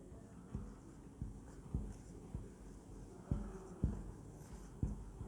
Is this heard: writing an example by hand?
yes